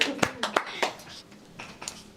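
A small group clapping at an educational outreach session with children, a handful of separate sharp claps spaced unevenly, close and fairly loud, with voices in the background.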